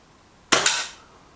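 A Reximex Pretensis .22 air rifle fires a pellet, a single sharp close crack with a quick second snap just after, then a short fading decay into near silence, no talk.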